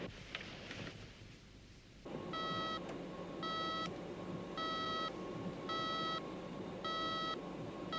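A bugging-device detector's electronic alarm beeps in a steady pulsing pattern, five short tone bursts about a second apart over a constant electronic hum and hiss, following a brief rumbling start.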